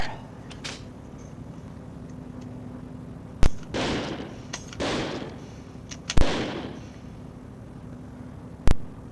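Assault rifle gunfire in the video game Second Sight: several sharp, separate single shots and a few longer bursts of automatic fire that echo and decay against a quiet background.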